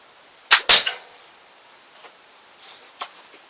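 A homemade crossbow fires and its bolt hits a wooden fence: a cluster of sharp cracks and a snapping thud close by, followed by a couple of faint ticks and rustles in otherwise quiet surroundings.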